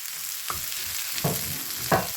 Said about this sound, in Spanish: Y ahora lo vamos a rehogar todo junto hasta que esté completamente cocinado.